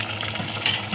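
Water is poured into garlic cooking in a hot pan, giving a brief, close, steady hiss and sizzle with a small flare of crackle.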